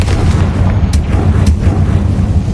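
Confringo explosion spell in Hogwarts Legacy: loud, dense booming blasts with rumbling low end and sharp crackling bursts, continuous for a couple of seconds without talk.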